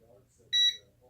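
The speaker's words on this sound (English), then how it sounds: "Every 6 seconds it's going to beep to let you know you are in auto orientation." A Sharper Image DX-1 micro quadcopter drone gives a single sharp, high electronic beep in auto orientation mode, a brief steady tone standing out between faint murmurs of nearby talk.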